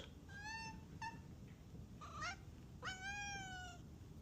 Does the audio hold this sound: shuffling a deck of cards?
no